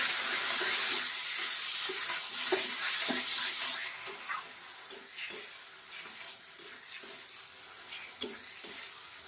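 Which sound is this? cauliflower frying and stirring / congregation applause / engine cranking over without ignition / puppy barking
cauliflower frying and stirring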